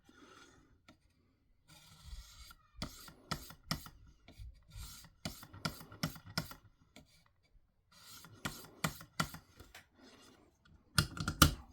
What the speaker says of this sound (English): Do a few deburring strokes.